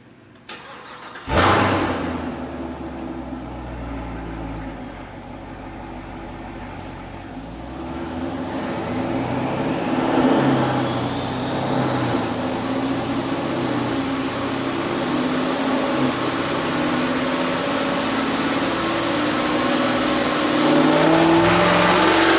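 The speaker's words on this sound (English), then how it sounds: "we're going to go ahead and dyno this thing, see where it's at" A 2019 Chevy Camaro SS on a dyno starts with a sharp burst, then its engine rises in a long, steady rev to high RPM, loud and close with a building drone and no talk.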